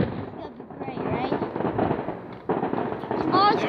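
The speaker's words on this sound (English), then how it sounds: "Ransom, we have like a big backpack, like a big pack of these fireworks." Fireworks and firecrackers from a big pack of consumer fireworks go off in a rapid crackling barrage with pops and whistles, loud and continuous, while people cheer and exclaim over it.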